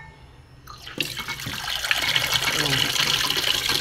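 A kitchen tap opens and runs for washing a pile of dishes: a quiet room, a brief clatter, then a steady hiss of flowing water that builds and continues, with a brief spoken word.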